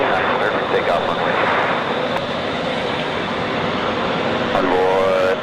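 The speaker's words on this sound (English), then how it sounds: "We got the Boeing on the roll." Alaska Airlines Boeing 737-800 jet roaring steadily down the runway on its takeoff roll at Phoenix, a loud sustained engine rumble and whine filling the whole stretch, with an air traffic radio voice talking faintly underneath.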